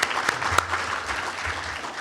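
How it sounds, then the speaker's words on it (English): A gala audience applauds in a steady wash of many hands clapping, loud and continuous, with a couple of sharper, closer claps standing out. "let's give them another round of applause"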